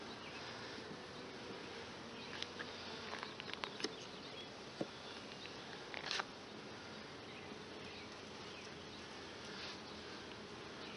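Honey bees working inside an open hive as they draw comb, a soft steady hum with faint scattered taps and crackles, quiet and close.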